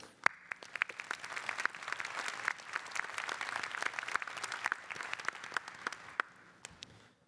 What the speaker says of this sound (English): Please join me in a round of applause for their support.